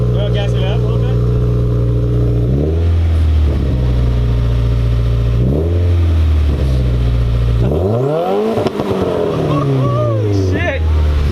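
A Subaru WRX fitted with a new downpipe revs hard up close, its engine note climbing and dropping in several loud sweeps, with a roar that fills the whole stretch.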